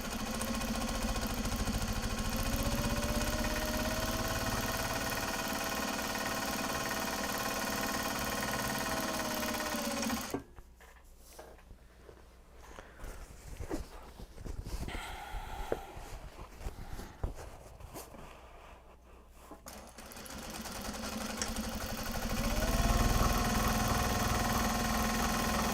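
A sewing machine top-stitches a Japanese fabric tote bag, running in a steady, dense whir for about ten seconds, pausing amid quiet handling noises, then whirring again near the end.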